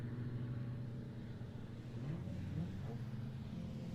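A race car at Barber Motorsports Park during a WRL endurance race drones steadily and loudly, its engine pitch dipping and then climbing as it downshifts and accelerates through a turn.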